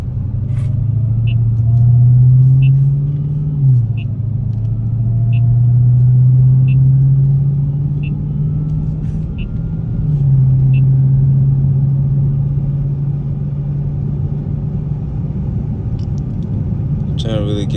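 A Dodge Hellcat Redeye's supercharged engine cruising at low revs, a steady deep rumble heard from inside the car with a brief rise and dip in pitch as it shifts, under a constant drone with faint ticking.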